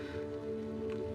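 Steady rain patters on surfaces, a constant soft wash of drops with a low background hum, no voices.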